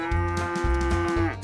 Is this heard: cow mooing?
yes